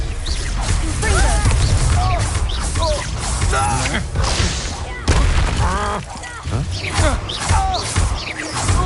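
Explosive spell blasts in Hogwarts Legacy during a fight with Ashwinders, several heavy booms and crashes mixed with spoken incantations and combat shouts over busy battle noise.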